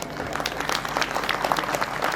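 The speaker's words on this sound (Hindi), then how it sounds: "तो आइए एक बार फिर जोरदार तालियों से इन नन्हे कलाकारों का उत्साह बढ़ाएं।" Young children's performers at a Kidzee school annual function receive applause from the audience, a steady, moderately loud patter of many hands clapping throughout without voices.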